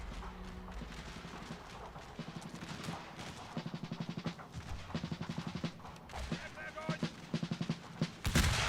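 Musket volleys and artillery fire from a Napoleonic-era Total War battle in a Russian winter setting, sounding as rapid rolling bursts of shots in clustered rhythms with a heavy boom at the end, while a voice talks over the fighting.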